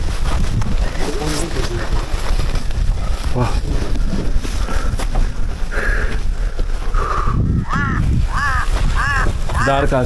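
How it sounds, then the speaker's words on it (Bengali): Crows caw in a series of harsh, repeated calls over strong wind noise on a rainy mountain trek on the Sandakphu–Phalut route, with people talking earlier and the caws growing clearer toward the end. "তার কাকের ডাক,"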